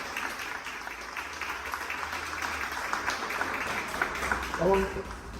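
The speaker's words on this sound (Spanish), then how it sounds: "me gustaría, por favor, un aplauso para ellos" Audience applause at a panel discussion on children and advertising, a steady wash of clapping throughout, fairly distant and even, with a voice briefly heard near the end.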